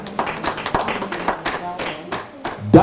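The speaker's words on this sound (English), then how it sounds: "Clap your hands and celebrate Jesus." A church congregation claps hands during a worship service, a series of sharp, irregular claps close by, mixed with voices and a brief louder burst at the end.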